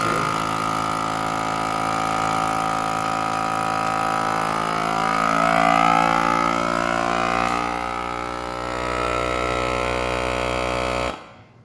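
A vacuum sealer on its moist setting pumps and seals a package of lard, with a steady droning motor hum that swells slightly midway and cuts off abruptly near the end.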